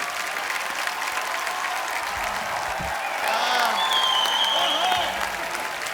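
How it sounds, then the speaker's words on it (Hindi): Studio audience applause at a live Hindi comedy show, a dense steady crackle of clapping with cheering and whistles rising midway, continuing loudly throughout. "तालियां जोरदार होनी चाहिए जरा।"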